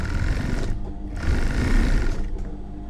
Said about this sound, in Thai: เย็บมาให้สุดเลยค่ะ